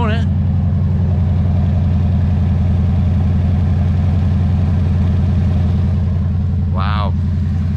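A Toyota Tundra with the 5.7 engine and a side exit exhaust idles steadily after a cold start, a deep, loud, even rumble running throughout with a brief voice near the end.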